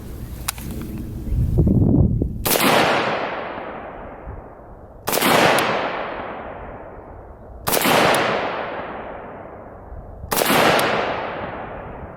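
An IWI Galil ACE rifle fires four sharp, loud shots at a slow, even pace, each about two and a half seconds apart, every crack trailed by a long ringing echo across an outdoor range.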